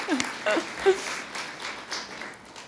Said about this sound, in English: please give Jane a round of applause